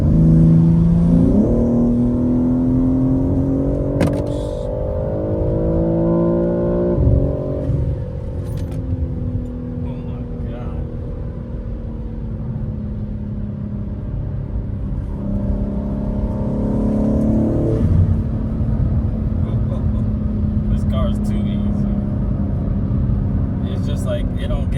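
A BMW G80 M3 with an aftermarket intake and exhaust valve controller drones loudly up close, its harmonic engine tone rising and falling through several revs and gear changes, with someone talking over it.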